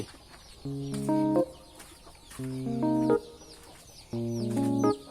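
Hens cluck in three separate bursts of rising, tonal calls, close by against a quiet farmyard background.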